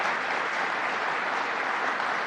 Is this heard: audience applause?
yes